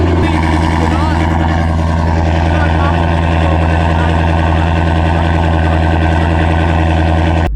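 Shelby GT350 with catless midpipes on a cold start with exhaust valves open, a loud, steady, rumbling high idle that continues unbroken throughout.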